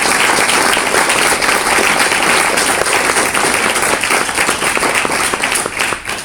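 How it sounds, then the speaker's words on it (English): An audience at an academic panel conference applauds steadily, a dense wash of many hands clapping at an even level, thinning slightly as it fades at the end. "I think you deserve an applause"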